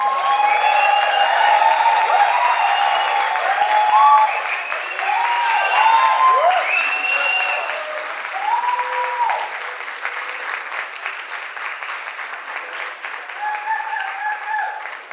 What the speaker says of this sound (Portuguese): E eu queria que vocês recebessem com muitos aplausos Félix Pimenta.